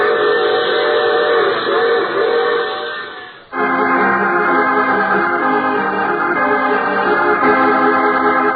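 A passing train with a steam-style whistle, a radio drama sound effect: a loud, steady multi-tone whistle drones over rolling rail noise, dips briefly, then blasts again and holds.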